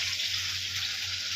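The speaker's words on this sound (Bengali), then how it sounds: "আলু বেশি করে ডিপ ফ্রাই করে দেওয়া যাক" Potatoes deep-frying in hot oil, a dense steady sizzle with a bright hissing texture, continuous and fairly quiet without talk.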